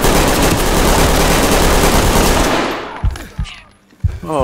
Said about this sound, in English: He's firing through the wall, dude.